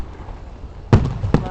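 Fireworks at a Fourth of July show in Liberty, Kentucky burst in two sharp booms after a quiet stretch, the second following shortly after the first.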